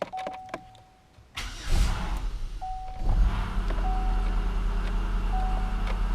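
A 2005 Chevy Uplander with a 3.5L engine and 193,000 miles, suspected of an ignition problem, cranks briefly and catches, then settles into a steady, loud idle, with a thin warning chime sounding intermittently throughout.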